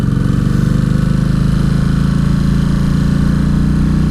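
A 2003 Kawasaki Vulcan VN1600 Classic engine pulls in first gear, giving a loud, close, steady low rumble with an even pulsing throb throughout.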